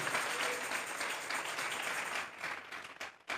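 Congregation applause at a church service, a dense sustained wash of many hands clapping at a fairly low level, tapering off toward the end.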